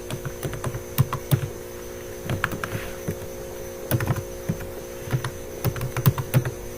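Close keyboard typing sounds in short bursts of quick clicks with pauses between them, over a low steady electrical hum.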